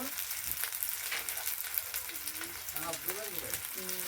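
Spice paste for a country chicken curry sizzles and hisses steadily in a pan as it is fried and stirred, with salt and turmeric added; voices talk over the continuous frying.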